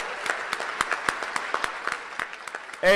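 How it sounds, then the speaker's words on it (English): Scattered hand claps from a small crowd at a keynote speech, uneven and fairly light, rising briefly then thinning out before a sudden louder noise at the end. "I need you to stand up and give yourself a round of applause."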